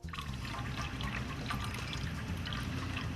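Water with zebrafish embryo chorions being poured off from a laboratory beaker, giving a close, steady trickling pour with small splashes running continuously for a few seconds.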